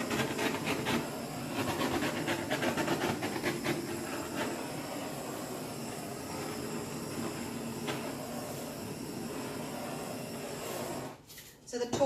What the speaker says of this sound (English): The torching is bringing those cells to the surface.